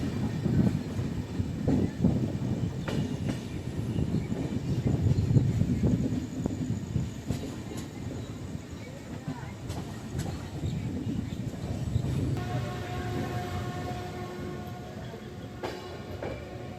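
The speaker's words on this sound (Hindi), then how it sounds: "और सुबह सुबह ही हमारी ट्रेन अराइवल ले रही है मुजफ्फरपुर जंक्शन में।" The Gondia Barauni Express pulls into Muzaffarpur Junction in the early morning. There is a continuous loud rumble of rolling wagons, with intermittent clicks and clanks from the rails and a faint high whine appearing near the end.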